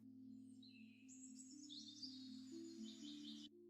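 Birdsong from a forest ambience near a small pond among huge trees, heard as steady high chirps and trills over a sustained low droning bed, continuous and moderately faint throughout.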